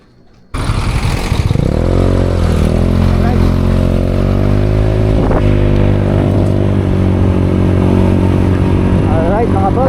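A motorcycle engine starts abruptly and runs loud and close, holding a steady, throbbing idle with slight revving swells, before the ride to register the bike.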